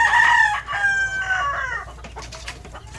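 Boston gamefowl rooster crowing loudly and close, a drawn-out cock-a-doodle-doo followed by clucks and short calls, with other birds faintly in the background.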